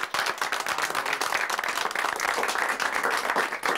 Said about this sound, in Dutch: Ik vraag een luid applaus.